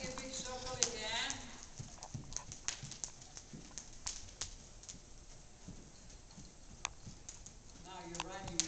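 A horse ridden in circles during an outdoor riding lesson makes steady, rhythmic clip-clop hoofbeats throughout, close by, with occasional voices faint in the background.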